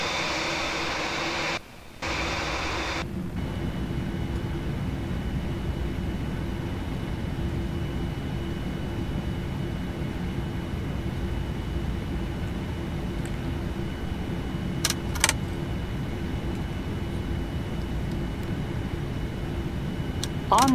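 Boeing 787-9 jet engines spooling up for takeoff on the runway, a steady, broad roar heard from inside the cabin that holds an even level throughout, with a brief dip early on and a few faint clicks near the end.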